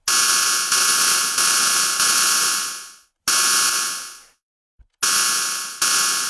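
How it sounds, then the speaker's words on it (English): Synthetic cymbal built from unison-detuned noisy waveforms: a bright, hissing metallic wash struck several times, each hit sustaining then fading, with a couple of gaps of silence between. "we've kind of got this weird synthetic cymbal sound"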